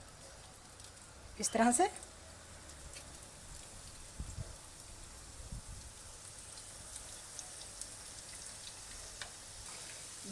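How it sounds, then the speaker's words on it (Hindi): Chicken pakoras frying in hot oil, a steady fine sizzle like light rain that runs throughout, with a brief louder clatter early on and a voice speaking briefly over it. "ऑयल हमारा गर्म हो चुका है। अब हम इसमें फ्राई करना शुरू हो जाएंगे"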